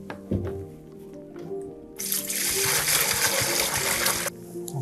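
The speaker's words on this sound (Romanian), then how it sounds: "Ok, am adăugat apa" Water pours steadily into the reservoir of a Levoit OasisMist 1000S humidifier, a bright rushing splash lasting a couple of seconds over faint room noise, close by.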